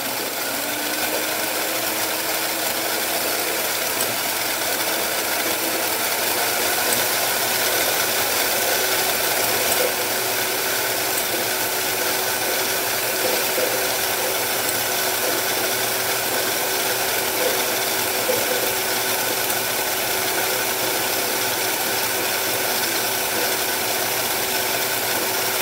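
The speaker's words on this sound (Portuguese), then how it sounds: "eu vou aumentar a minha velocidade da batedeira" A stand mixer runs as a makeshift winder, spooling sewing thread from one cone onto two cones, a steady loud mechanical whir and rattle with a faint rising whine as the speed increases, and no talk.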